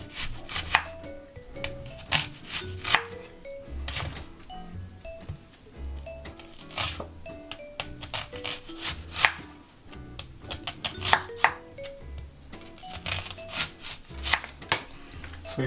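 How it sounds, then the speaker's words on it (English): A knife slices an onion into rings on a cutting board, sharp rhythmic chops landing in quick bursts and pauses over about fifteen seconds, close and crisp with no talking. "And the onion, going to slice it into rings."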